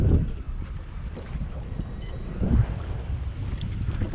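Wind gusting over open water around a small fishing boat in rain, a rumbling low buffeting against the microphone with light splashing, steady and close.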